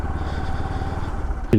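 A motorcycle engine drones steadily and close while riding on a dusty road in Diabari, Dhaka, with a brief voice breaking in right at the end.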